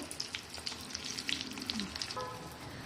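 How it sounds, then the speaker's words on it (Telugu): Dried chillies with roasted gram dal (putnala pappu) powder being fried and stirred on low heat, a soft continuous sizzle broken by faint scraping strokes of the spoon, quiet and close. "ఇలా మనం సిమ్లో పెట్టి ఒక 15-20 మినిట్స్ దాకా వేయించుకోవాలి తిప్పుకుంటూ"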